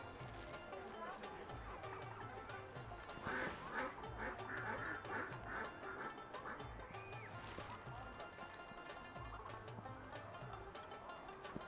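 Ducks quack repeatedly in bursts amid a noisy outdoor background at Heaton Park, moderately close, with scattered voices around.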